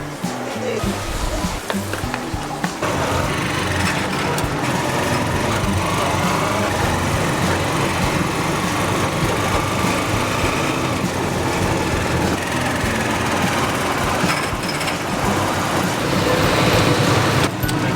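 Small motorized tricycle engine droning steadily through an errands ride, a continuous buzzing motor with road and traffic noise, loud and close from start to finish, with faint talk underneath.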